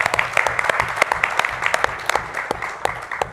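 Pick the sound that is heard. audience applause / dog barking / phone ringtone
audience applause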